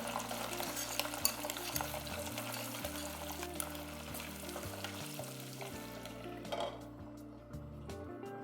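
Beef pieces frying in hot cooking oil for sesame fried beef, a continuous loud sizzle and crackle with occasional stirring and pan clatter, fading toward the end.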